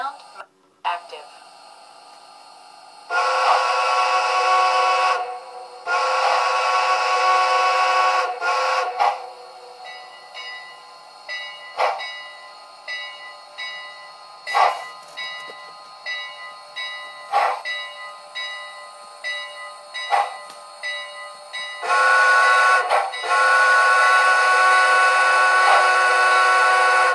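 A model train locomotive's DCC sound decoder plays loud bursts of horn blasts, alternating with a run of rapid, regular bell strikes.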